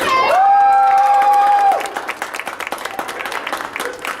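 Audience at a university poetry event bursts into applause and cheering, opening with a loud, held whoop over the crowd, then settling into scattered, crisp clapping that continues to the end.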